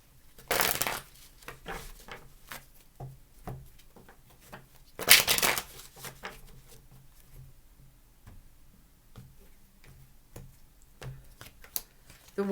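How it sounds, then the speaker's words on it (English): Tarot cards being shuffled by hand during a reading, soft riffling and tapping clatter with a couple of louder bursts, close and fairly quiet, no talking. "Give me 2 more shuffles, please."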